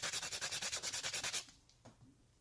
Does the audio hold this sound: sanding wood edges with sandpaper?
yes